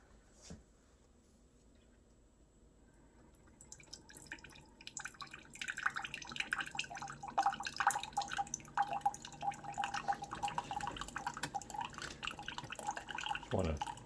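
A Keurig K Supreme coffee maker brews a 6-ounce cup: quiet at first, then a steady, close trickle and drip of coffee with a faint whine that runs to the end.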